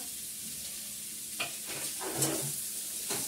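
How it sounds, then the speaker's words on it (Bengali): Ginger paste going into a hot frying pan of bottle gourd shukto, a steady close sizzle with a few brief louder stirring scrapes, no voices. "দিয়ে দেওয়া হচ্ছে আদা বাটা"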